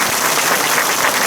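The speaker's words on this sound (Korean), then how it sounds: "김병관 의원님께 그 힘내서 우리 소개자로 박수 부탁드립니다" Residents at a briefing on pre-sale conversion pricing applaud a lawmaker, producing a brief, loud burst of dense, steady clapping close to the microphone.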